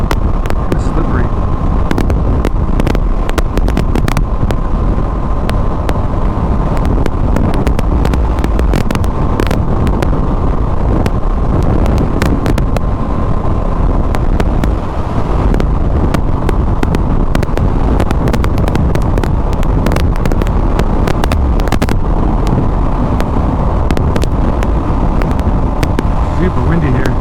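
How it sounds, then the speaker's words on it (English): Strong wind buffets the microphone nonstop while riding a 2024 Aprilia RS660 motorcycle on fresh roads, a loud, constant rumble with gusty crackles and engine drone underneath, while a rider talks over it. "Super windy here."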